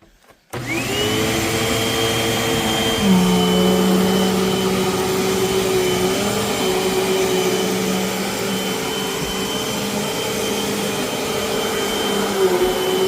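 A Eureka AirSpeed bagless upright vacuum cleaner switches on and keeps running with a loud, steady whine and motor drone, a brief pitch shift partway through, and no talk.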